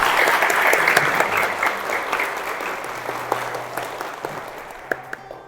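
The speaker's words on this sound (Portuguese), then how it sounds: "aplauda o Senhor com força" A church congregation applauds loudly and steadily during a sermon, dense clapping filling the room before thinning out toward the end.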